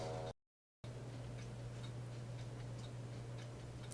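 A clock ticks steadily in a quiet room, a faint, even tick-tock after a brief dropout at the start, with no ringing or talking.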